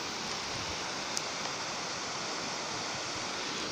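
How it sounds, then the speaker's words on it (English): The Maramataha River rushes below a large suspension bridge in New Zealand bush, a steady, even roar of flowing water that holds unchanged throughout with no voices. "this is the Maramataha River you can hear down below"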